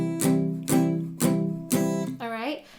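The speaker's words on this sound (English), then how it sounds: "you'll hear they have slightly more of a dampened, kind of muted sound." Palm-muted strumming on a guitar, playing a beginner pattern for a song. Four evenly spaced chord strums sound close and clear, followed by a short sliding tone.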